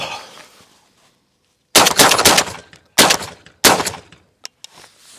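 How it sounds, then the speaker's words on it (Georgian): Three loud, sharp gunshots spaced about a second apart, each with a short echoing tail, followed by faint clicks, in an otherwise quiet outdoor setting. "აბა გასროლა ბიჭებო"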